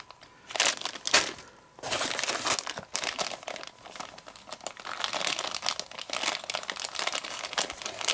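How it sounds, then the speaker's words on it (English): Items pulled out of a crinkly plastic bag, loud close crackling and rustling bursts that come in waves, with short pauses, and no talking. "I'll get these out of the bag for the moment."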